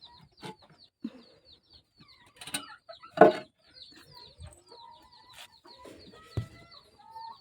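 A hen clucks inside a small chicken coop, giving scattered, fairly faint, irregular clucks and short calls close by, with no talking.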